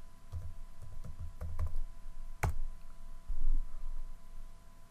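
Keys tapped on a computer keyboard, giving a few scattered, quiet clicks, with one sharper click midway and low background hum underneath.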